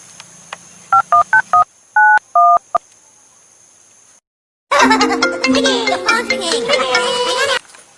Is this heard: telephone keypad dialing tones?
yes